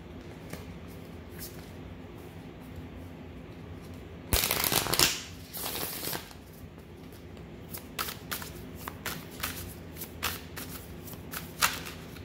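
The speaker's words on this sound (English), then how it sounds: "So let me pull from these astrology based decks" Astrology-themed tarot card decks being shuffled up close, a loud riffling burst followed by lighter, intermittent card flicks and soft handling sounds in a quiet room.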